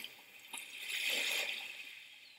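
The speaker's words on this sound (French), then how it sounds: "le son des vagues et pas le son des trafics" Gentle waves wash onto a beach in the video game Beach Bounce, a soft hissing surge that swells to a peak midway and then recedes, steady and fairly quiet.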